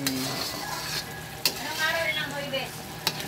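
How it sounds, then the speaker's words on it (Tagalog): Sticky rice biko is stirred in a pan, a steady sizzling bubble broken by a few sharp scrapes and clicks of the spoon against the pan. "Halo-haluin lang natin. Hanggang sa lumapot at pwede na ilagay yung kanin."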